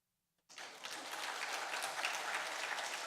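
Audience applause from a crowd at a church gathering, bursting in suddenly after a brief silence and holding steady as dense, continuous clapping with no talk over it.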